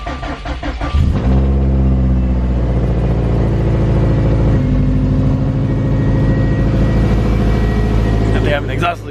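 A 2018 Subaru STI with a Cobb exhaust cranks briefly and fires up, then settles into a loud, steady idle with a low, throbbing burble that carries through the rest of the clip.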